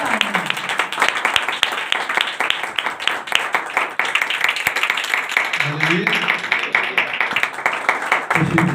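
A church congregation at a Sunday morning meeting claps loudly in welcome, a dense, continuous roll of many hands that lasts the whole stretch, with a voice speaking over it now and then.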